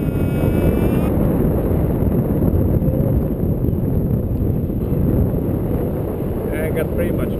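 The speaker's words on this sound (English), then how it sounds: "The only thing you can hear up here is the wind." Strong wind rushing past during a tandem skydive or flight around 1,000 feet near Napanee Airport, a loud, constant low roar buffeting the microphone with no other sound.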